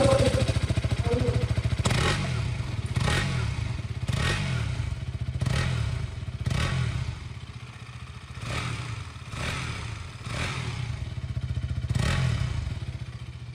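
A 2026 KTM Duke 200 single-cylinder motorcycle idles steadily close by, with a series of sharp revs blipping roughly every second or so over a continuous low engine thrum.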